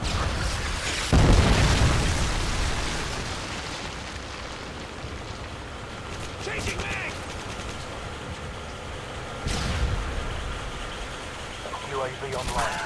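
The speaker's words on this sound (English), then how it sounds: "Friendly Predator missile inbound." A Predator missile strike in Call of Duty Modern Warfare 2 team deathmatch on Quarry lands as a heavy, close boom with a rumbling tail, followed by a second blast around the nine-second mark over a busy backdrop of battle noise and gunfire.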